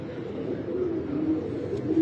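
Patti wala high flyer pigeons cooing, low soft repeated coos from several birds, close and continuous with no talk.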